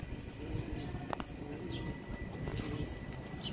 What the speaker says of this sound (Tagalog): Uy, may ibon na tayo.